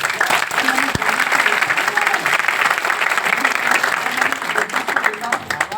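Sustained applause from a large crowd at a motivational speaking event, a dense steady wash of clapping that keeps going without a break.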